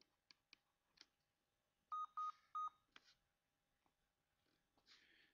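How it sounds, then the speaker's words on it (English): Three quick, clear electronic beeps from a device warning of a low battery stand out against a quiet room with faint scratching and handling noises. "Better hurry up, the battery's going, you heard the beeps."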